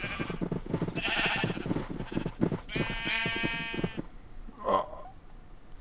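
Sheep in Minecraft bleat repeatedly at close range, several wavering, nasal calls in quick succession with a final short bleat after a pause; no talking is heard.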